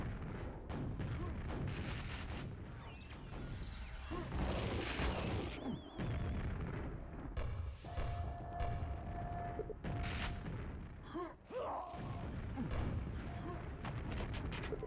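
Explosions and weapon fire from a QuakeWorld 2on2 deathmatch burst in clusters of booms and crashes over constant in-game mechanical noise, with bursts of voice now and then.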